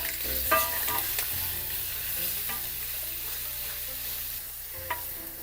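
Pieces of pork browning in a hot pan for kimchi stew sizzle steadily, with a few sharp spatters and stirring clinks over the continuous frying hiss, close and moderately loud, with no one talking.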